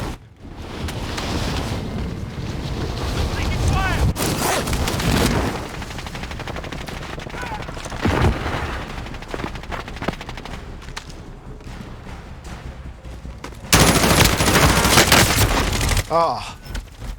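Rapid gunfire bursts and booming blasts from the video game Warzone fill the mix, with a loud burst of automatic fire near the end and voices talking beneath the shooting.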